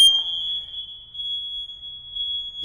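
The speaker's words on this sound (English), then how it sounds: "You push the button until it beeps" A smoke detector sounds a steady, loud, high-pitched electronic tone after its reset button is pressed. The tone holds unbroken through the clip, close to the listener, with no talking.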